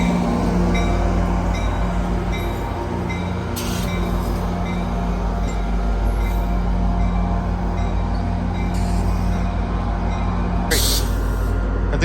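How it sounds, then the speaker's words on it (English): A loud, steady rumble of an approaching train fills the clip, with occasional bright hissing bursts over the continuous roar. "I think there's a train coming."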